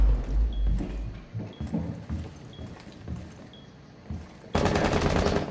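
Gunfire in Rainbow Six Siege during a team deathmatch on the Hereford Base map, scattered sharp shots and footsteps building to a dense, sustained burst of automatic fire at the end.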